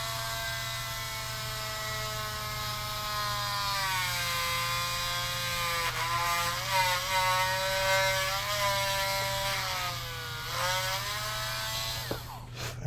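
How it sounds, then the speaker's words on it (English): A small drill bores a tiny hole down the center of a toy sculpture, a steady high-pitched whine with shifting pitch and occasional strain, continuous and close throughout. "We're going to drill a hole right down the center."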